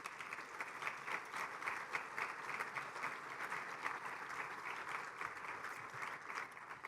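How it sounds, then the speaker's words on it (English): A conference audience at a regional cybersecurity summit applauds the event sponsors; a steady, fairly faint round of many hands clapping carries on evenly from start to finish. "Let's all give them a round of applause for their support."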